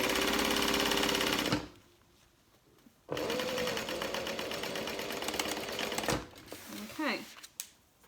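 A sewing machine stitches a zipper pouch being made into a handbag. It runs loudly in steady buzzing bursts, stops briefly, then runs again, followed by softer fabric handling and a few clicks. No speech.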